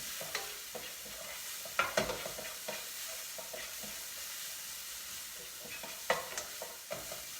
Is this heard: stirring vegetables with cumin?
yes